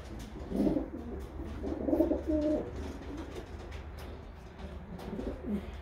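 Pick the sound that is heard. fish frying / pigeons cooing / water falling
pigeons cooing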